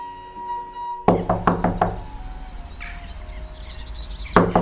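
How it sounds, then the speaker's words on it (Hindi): Door knocking in an animated cartoon: a quick run of four or five sharp raps, then a pause with faint bird chirps, and a final knock, loud and close. "दरवाजे पे कोई खटखट कर रहा है"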